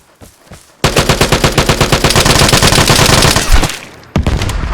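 Automatic weapon fire in the shooter game Vigor, a loud close burst of rapid rhythmic shots lasting about three seconds, followed by a short pause and another burst starting.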